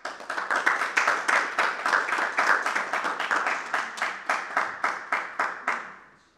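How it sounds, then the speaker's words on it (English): An audience at a talk by a survivor of the October 7th Nova festival attack claps in a steady, rhythmic unison beat, about three claps per second, sustained and fairly loud before fading out at the end. "This is the first time somebody is clapping like in this part."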